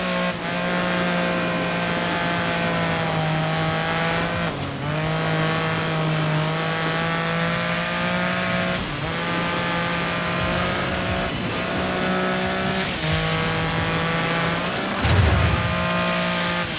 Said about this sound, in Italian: Vi lascio al rombo del motore.